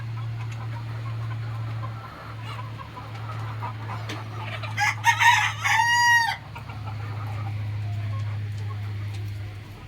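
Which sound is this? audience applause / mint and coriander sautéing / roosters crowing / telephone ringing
roosters crowing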